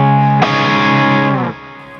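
Electric guitar played through Hughes and Kettner and Marshall amps at once, one sustained distorted chord struck loud and ringing thick with harmonics for about a second before being cut off, no talking.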